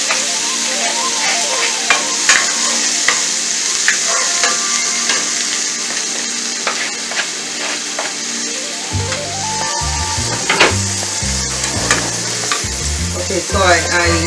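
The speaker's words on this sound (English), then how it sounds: "So now I'm gonna just saute this onion, tomato," Onion, tomato and chopped fresh cilantro sauté in a pan with a steady, loud sizzle, while a utensil repeatedly stirs and scrapes across the surface with sharp clinks and knocks close by.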